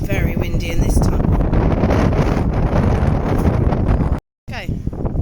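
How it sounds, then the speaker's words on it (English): Strong wind roars through a tunnel on the Ifach climb, buffeting the microphone loudly and continuously with a brief dropout near the end, while people talk over it. "It's very windy in this tunnel."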